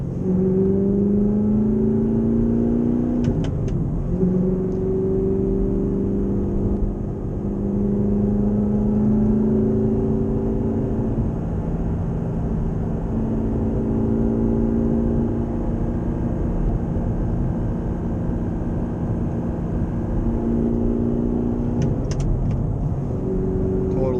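A 2012 Audi R8 with a V8 and manual gearbox cruises in fifth gear, a steady low engine drone with gentle pitch shifts and road noise inside the cabin, under intermittent talk.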